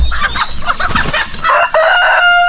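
Egg-laying hens cluck in a farmyard as a rooster crows loudly and close by, a busy overlapping mix of clucks and calls ending in a drawn-out crow.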